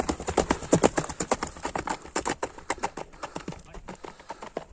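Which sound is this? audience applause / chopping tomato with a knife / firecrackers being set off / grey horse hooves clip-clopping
grey horse hooves clip-clopping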